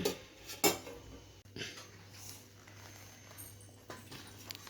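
Biryani rice being served from a cooking pot, with faint scraping and clinks of a ladle or spoon against metal, a few soft knocks spread over a quiet kitchen background.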